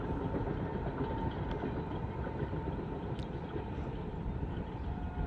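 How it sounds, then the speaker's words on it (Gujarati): A train rumbles past on the Bhavnagar to Palitana line beside a riverbank and farm fields, a steady broadband roar that stays loud and continuous throughout with no voices. "તો બસ સરસ મજાની ટ્રેન હાલી જાય છે"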